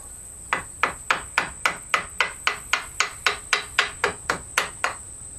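Steady mallet blows on a chisel cutting into wood for a sword sheath, about fifteen sharp knocks in an even rhythm, close and clear with no talking.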